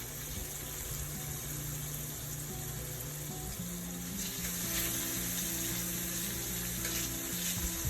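Shrimp stir-frying in olive oil with seafood seasoning, a steady close sizzle and crackle running throughout with a low hum beneath and no talking.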